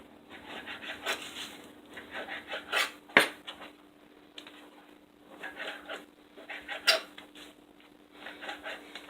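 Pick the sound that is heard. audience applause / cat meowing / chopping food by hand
chopping food by hand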